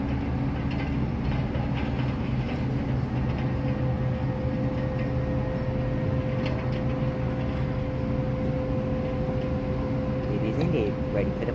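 A train at Sittingbourne station on the Chatham Main Line gives a continuous, loud rumble and idling hum with a steady tone and faint clicks, heard close throughout as it prepares to depart, with voices at times over it.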